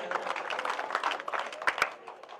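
A crowd at a Kurukshetra Lok Sabha election rally for an INDIA alliance candidate breaks into scattered clapping, a dense patter with a few sharper claps near the end, moderately distant and without speech.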